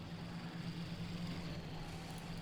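Heavy German tank engines rumble steadily in a Company of Heroes 2 match, a low continuous idling drone with faint mechanical hiss, no voices.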